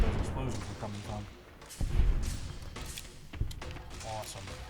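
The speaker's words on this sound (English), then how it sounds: "Oh, this one also has a grenade rifle. That's just wonderful. That's where those explosions are coming from." Grenade rifle explosions in the video game Fallout: New Vegas land as a few dull, thumping booms, loud and fairly close, under ongoing talk.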